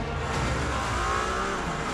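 The Mercedes-AMG One hypercar's engine revs hard and continuously, heard loud and dense from inside the cabin on a track, a short unbroken burst of mechanical roar with no voices.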